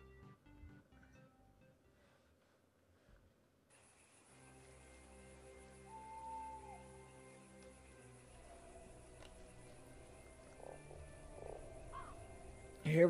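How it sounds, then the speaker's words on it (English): In the video game Fran Bow, a toad gives a few short croaks over a steady, layered background drone of game music and ambience. "Bye, Mr. Toad"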